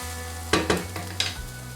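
Onions sautéing on medium heat for a mushroom burger topping, a soft sizzle broken by a few sharp stirring scrapes and clatters against the pan, close and brief, over a low steady hum.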